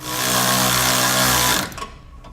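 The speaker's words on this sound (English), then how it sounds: "You're going to want to go back and forth, alternating, tightening each side of the bolt so it tightens down evenly." A power tool whirs loudly and steadily while tightening U-bolt hardware on a 2016 Chevrolet truck frame, then cuts off after about a second and a half, leaving brief clanks and rattles.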